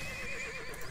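A horse whinnies in the online fantasy game ArcheAge with a long, wavering neigh that rises and falls over steady in-game background noise, and no one speaks.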